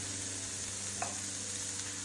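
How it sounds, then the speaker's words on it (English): Steady frying sizzle of Brussels sprouts charring in a pan, a constant hiss with a couple of faint clinks, no voices. "Our Brussels sprouts, which are still sizzling,"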